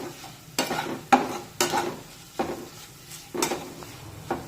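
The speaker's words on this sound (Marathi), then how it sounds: "1 मिनिट मंद आचेवर छानपैकी हे मसाले परतून घेऊया" Spices are sautéed in oil over a low flame for a dry bean dish, with a quiet sizzle broken by several distinct spoon scrapes and taps against the pan at irregular intervals.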